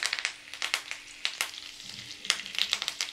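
Chicken pieces for Chicken 65 frying in hot oil, a faint steady sizzle with irregular crackling pops and bursts of spitting throughout.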